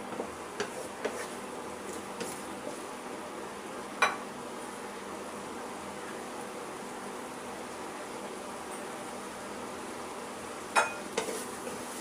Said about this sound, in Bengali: ধনিয়া পাতা কুচি ভালোভাবে নেড়ে চেড়ে নামিয়ে নিলেই তৈরি হয়ে গেল ডিম দিয়ে চাল কুমড়ো ভাজি